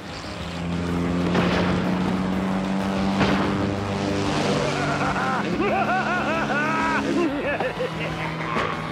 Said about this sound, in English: We've got to stop that plane!